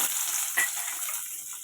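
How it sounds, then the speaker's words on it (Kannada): Onion frying in a pan for red chutney, a bright continuous close sizzle with one brief stir or crackle partway through and no talking. "ಈರುಳ್ಳಿ ಚೆನ್ನಾಗಿ ಫ್ರೈ ಮಾಡ್ಕೊಬೇಕು"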